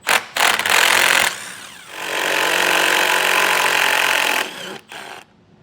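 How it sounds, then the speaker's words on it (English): A power driver whirs loudly in two sustained bursts while backing out 10mm screws from a vehicle's underside panel, with a short pause between runs. "we're going to have a lot of 10mm screws that we'll have to take out to get this panel down"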